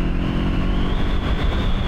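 A 2024 Kawasaki Eliminator 500 motorcycle accelerates with a steady, close engine drone that climbs slightly in pitch, loud and continuous with no voices.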